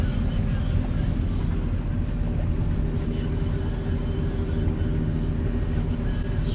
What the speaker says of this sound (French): c'est le bateau que je croise, enfin qui me passe le plus proche depuis le départ